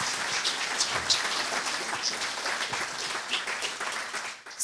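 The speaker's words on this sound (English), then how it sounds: "Let's give them a round of applause." Hall audience at a leadership contest debate in Charlottetown applauds the candidates, a fairly faint, crackling patter of many hands that sounds almost like rain, steady for several seconds and then tapering.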